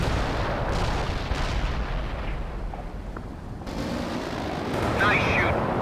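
Artillery strikes pound a target area in the World in Conflict video game, a dense, continuous roar of blasts and rumbling impacts that stays loud throughout, with radio voices heard over it.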